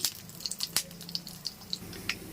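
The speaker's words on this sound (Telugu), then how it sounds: "ఆవాలు జీలకర్ర మినప్పప్పు కాస్త ఎక్కువగా శనగపప్పు వేసుకొని ఫ్రై చేసుకుందాం" Mustard seeds, cumin, urad dal and chana dal frying in hot oil for a broad-bean curry, a soft steady sizzle with scattered small pops and crackles, close and fairly quiet with no talking.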